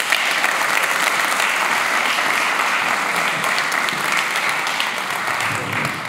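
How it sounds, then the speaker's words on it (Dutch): Sustained, loud applause from a festival audience at a talk on climate change, steady clapping filling the whole stretch with no voices standing out. "Dus mag ik een groot applaus voor onze gids in die donkere tijd, Detlef van Vuren."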